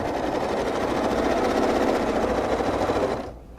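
A sewing machine stitches continuously for several seconds while quilting along a ruler, a close, steady rapid mechanical whir and patter that stops abruptly at the end.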